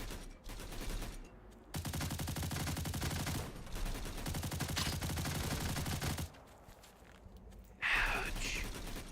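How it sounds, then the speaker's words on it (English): Video game gunfire from a shooter, with long rapid bursts of automatic fire for several seconds followed by a few scattered shots and a brief noisy burst, loud and close. "He's shooting me through the window"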